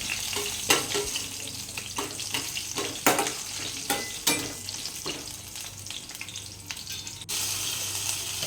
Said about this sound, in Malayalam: ഒന്ന് മിക്സാക്കി കൊടുക്കണം